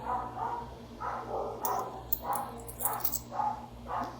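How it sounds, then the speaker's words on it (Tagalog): A dog barks repeatedly at a moderate distance, several sharp yips spaced across the moment over a low steady background hum. "sorry sa ano guys, sa maingay na aso"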